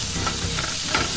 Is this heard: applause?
no